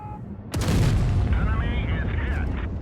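A single heavy tank cannon shot from a T95 in World of Tanks Blitz, a sudden loud boom that rings out and decays slowly, followed by a softer mechanical rumble under someone talking.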